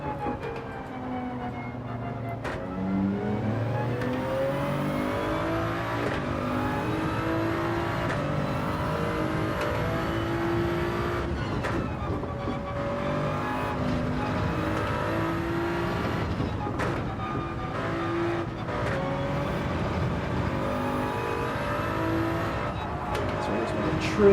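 A Toyota Supra race car laps a track in Gran Turismo, its engine note climbing and dropping repeatedly through gear changes, a close, continuous whine that rises and falls for the whole stretch.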